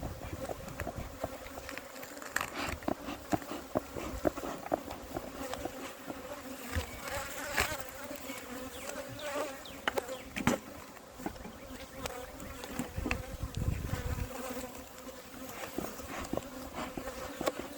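Honey bees fly around an open hive during an inspection, a dense close buzzing swarm with individual bees droning past the microphone, and no voices.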